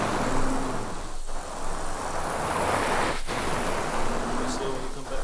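Wet extraction vacuum pulling water from a rug soaked overnight to remove cat urine, a steady loud broadband suction roar running continuously throughout with brief dips, a voice speaking over it.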